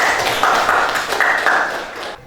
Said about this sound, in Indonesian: Terima kasih Ghazali, kita tepuk tangan untuk Ghazali.